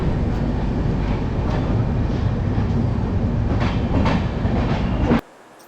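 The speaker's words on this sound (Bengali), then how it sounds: "293 কিলোমিটার পথ চলে আমাদের ট্রেন এসে পৌঁছলো এই ট্রেনের চতুর্থ স্টেশন উড়িষ্যার ভদ্রক।" Coromandel Express train running on rails near Bhadrak in Odisha, a loud steady rumble with faint rhythmic clatter for about five seconds before it cuts off abruptly.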